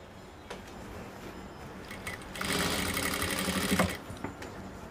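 A sewing machine stitches along pant fabric in a tailoring session, a close rapid mechanical chatter that starts up in a short burst, runs steadily for about a second and a half, then stops amid quiet room noise.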